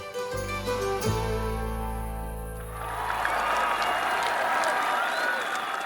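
Large crowd applauding and cheering a king's appearance at an evening festivity, a steady roar of clapping and acclaim building after music-like tones fade, sustained and loud throughout.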